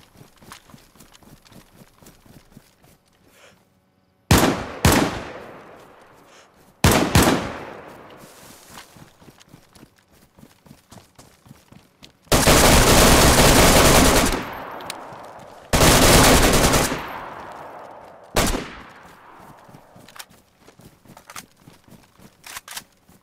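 Gunfire in the video game DayZ, sounding as separate loud bursts of automatic fire each lasting a second or more, with a rapid ticking rhythm running quietly between them.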